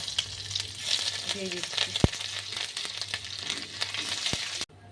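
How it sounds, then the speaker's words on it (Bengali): Mustard seeds, green chilli and ginger frying in a pan, a light crackling sizzle with sharp pops and a couple of utensil knocks, while a voice speaks briefly over it before it cuts off. "সর্ষে দিয়ে দিচ্ছি। এগুলো একটু ভেজে নিচ্ছি।"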